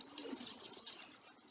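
Birds chirp and call outdoors, a brief cluster of high, bright tweets over soft ambient noise, with no talking.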